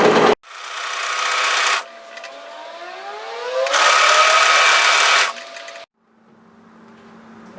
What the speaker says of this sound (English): And just as we're serging this